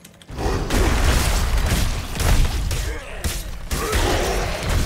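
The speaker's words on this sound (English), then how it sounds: "get that nice explosion." Barbarian earthquake skill explosions in Diablo 4, a dense, loud rumbling burst of booms and crashing impacts sustained for several seconds with brief dips, game effects layered throughout.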